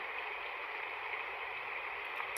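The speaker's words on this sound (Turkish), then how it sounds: "ve yine dalga, su sesi" A white noise machine for babies plays a wave and water sound, a soft, steady rushing hiss that stays even and continuous throughout.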